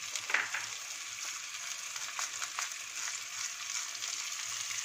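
Onions fry with salt in a pan while cooking a chicken and vegetable quiche, a steady, faint sizzle with soft crackles and a few stirring scrapes, heard alone.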